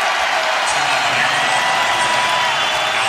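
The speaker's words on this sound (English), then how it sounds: "The crowd noise you hear." Arena crowd at the 2019 Big Ten Wrestling Championship finals, a broad, loud, continuous roar of cheering and applause that stays level throughout, with possible voices buried in the noise.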